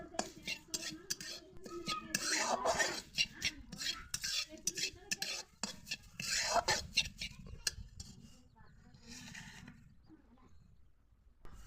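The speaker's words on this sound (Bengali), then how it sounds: "খুন্তির সাহায্যে একটু পাতাগুলোকে ভেঙে ভেঙে দিতে হবে যাতে পাতাগুলো গোটা গোটা না থাকে" A spatula scraping and stirring neem leaves frying in mustard oil in a wok, irregular scrapes and clatters that thin out toward the end, with faint murmuring underneath.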